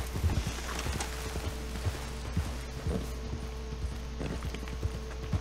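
Horse hooves clip-clop at a steady walking rhythm in Red Dead Online, moderately quiet, over a low constant background hum.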